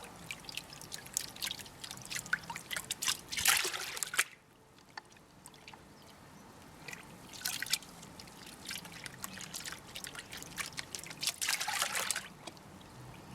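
Water trickles and drips from a gold pan while sulfide-rich material is washed, with soft splashing bursts and quieter gaps between them, close by and with no voices.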